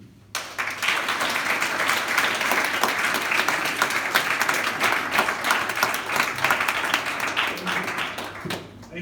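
A school audience at St David's Marist Inanda breaks into loud, sustained applause after a motivational speech, many hands clapping in a dense roar for about eight seconds before it fades out.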